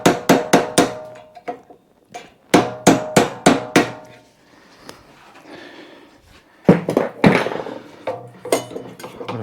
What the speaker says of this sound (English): Hammer and punch.